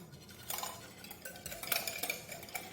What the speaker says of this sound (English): I'm just gonna whisk that up really well